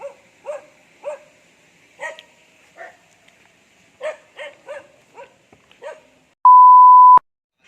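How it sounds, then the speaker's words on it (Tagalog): A dog barks repeatedly in short, sharp bursts at a fairly close distance, followed by a steady electronic beep that cuts off abruptly. "may aso"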